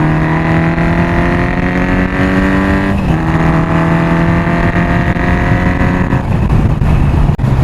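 A Honda 750 Four motorcycle engine while riding, a loud steady four-cylinder drone that rises in pitch through the gears, with a shift dip partway through and another change in engine note near the end.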